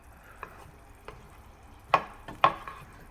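Bacon rashers sizzle faintly in a frying pan after being turned flesh side up, with soft scraping and two louder clattering stirs of the pan near the end.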